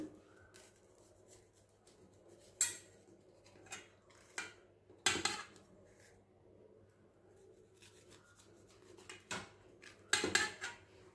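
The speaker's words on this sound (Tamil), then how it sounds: "இப்போ இதை நம்ம கட் பண்ணி எடுத்துக்கலாம்" A homemade mango bar is sliced into pieces with a knife, giving scattered sharp clicks and taps against a plate or tray, irregular and close, with quiet gaps between cuts.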